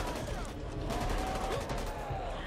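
Continuous gunfire from shooting zombies in a video game, a dense rattling barrage that is steady and fairly loud throughout, with game noise layered over it.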